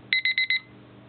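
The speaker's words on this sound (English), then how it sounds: "The alarm sound is alarm 1." An iPhone alarm tone beeps four times in quick, even succession, bright and clear, then stops, leaving faint background hum.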